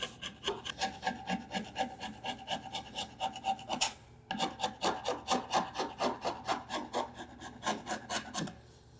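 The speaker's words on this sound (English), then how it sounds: "take yourself a chisel and let's just grind off that edge a little bit" A chisel scrapes the sharp wet-saw-cut edge of a 2x3 piece of wood, a steady run of rhythmic rasping strokes, close and loud, pausing briefly midway before continuing.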